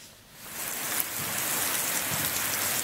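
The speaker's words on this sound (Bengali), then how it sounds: "গতকাল থেকে থেমে থেমে বৃষ্টি হচ্ছে সিলেট ও সুনামগঞ্জ সহ দেশের বিভিন্ন এলাকায়।" Rain falls steadily during a wet spell in the Sylhet and Sunamganj area, a dense hiss of drops on surfaces that swells within the first half second and then holds even, with no voices.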